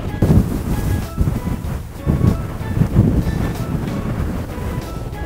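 Wind buffets the microphone over rolling ocean surf on a beach at Troon, Scotland, a loud, continuous roar of waves and gusts with no speech.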